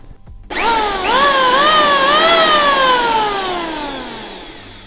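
A 900-watt BN5 electric hand planer switched on after a brief silence, its motor whining up to speed with a rising, wavering tonal hum that settles and slowly winds down, loud and alone.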